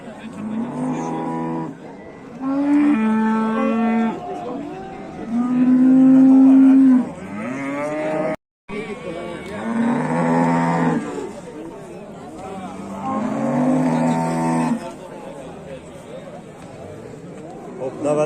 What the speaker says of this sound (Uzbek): navbatdagi sigirimiz